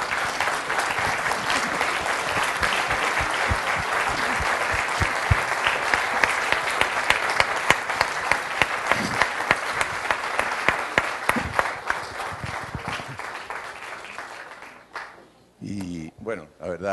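A standing ovation at an education seminar: dense, continuous clapping from a large audience for about fourteen seconds, with individual sharp claps poking through, before it dies away into brief handling noise and quiet.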